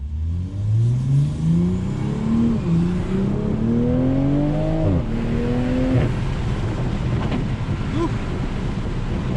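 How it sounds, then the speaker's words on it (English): A new Toyota Supra's exhaust revs and rises through gears with the windows down, loud engine tones climbing and dropping under heavy wind buffeting and cabin turbulence throughout. "you can't really listen to the exhaust without having a bunch of that wind noise and a bunch of that turbulence going on within the cabin"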